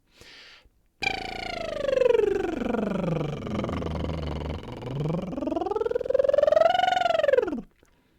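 A buzzing lip trill glides smoothly down in pitch, holds low, then sweeps back up high before cutting off; sustained and close, with no talking.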